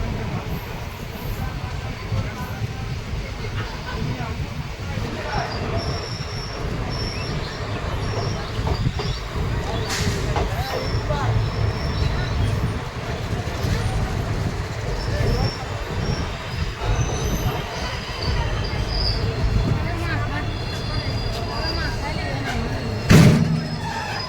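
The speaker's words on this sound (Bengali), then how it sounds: "শিবলুন হল্ট স্টেশন থেকে ট্রেন ছেড়ে দিয়েছে" A Katwa–Nimtita passenger train rolls along after leaving Shiblun Halt station, its low steady rumble and rattle heard from inside, with a sharp knock near the end and voices talking over it.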